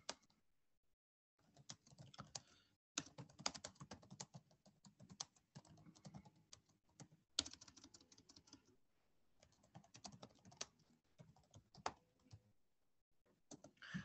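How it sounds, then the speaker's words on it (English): Someone types steadily on a computer keyboard, with bursts of quick close key clicks separated by short pauses, fairly quiet and with no voice over it. "I might have been typing too fast and had a typo there"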